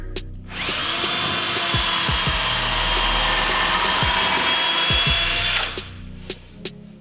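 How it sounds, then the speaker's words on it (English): A power drill bores into a solid piece of oak, a steady high whine lasting about five seconds before spinning down, with a few soft thumps and clicks before and after. "let's drill some holes in this piece of wood here"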